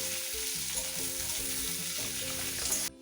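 Chopped onions sizzle steadily in hot oil with whole spices such as bay leaf, a constant frying hiss under background music that cuts off abruptly at the end.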